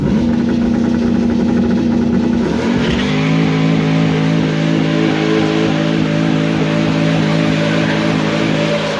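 A car engine with an MSD 2-step rev limiter set at 3,500 RPM runs loud and close, a steady droning note that drops in pitch about a third of the way through and then holds at a lower, even rumble.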